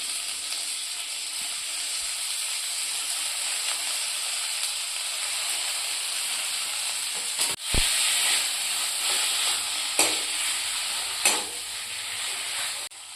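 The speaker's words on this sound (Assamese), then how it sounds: "আদা নহৰু পিঁয়াজ মছলা দি পেলাই এনেকৈ তেলত অকণমান ভাজি লৈছোঁ" Boiled potatoes with ginger, garlic, onion, spices and tomato fry in hot oil, giving a steady close sizzle throughout, broken by a few sharp utensil knocks and stirring clatters in the second half.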